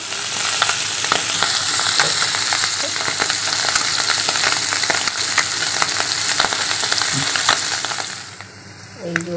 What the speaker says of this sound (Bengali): এটা ওই পুঁটি মাছটাই ভাজা হচ্ছে, তারপরে মৌরলা মাছটা ভাজা হচ্ছে।